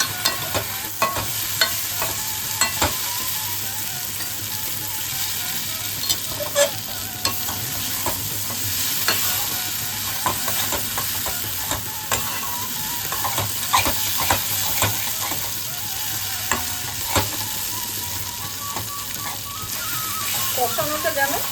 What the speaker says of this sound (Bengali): মশলাটাকে এবার ভালো করে কষাতে হবে